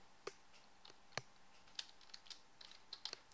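Light typing on a computer keyboard, a quiet irregular run of soft key clicks spread across a few seconds with no voices.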